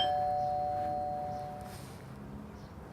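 A house doorbell gives a single chime whose ringing tones fade gradually over a couple of seconds against a low background hum.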